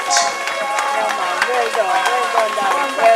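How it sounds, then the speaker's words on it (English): An audience at a memorial gathering in Montego Bay, Jamaica, applauds Rasdawit's address with scattered, moderate clapping that continues steadily beneath voices and crowd murmur. "I want the item applaud the presentation from rasdawit."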